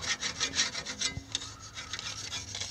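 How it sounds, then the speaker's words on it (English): Metal tool scraping and rubbing around the grease-caked differential cover of a Willys Jeep CJ-5, a close, gritty rasp in repeated short strokes with no talk. "So let's scrape around over here a little bit"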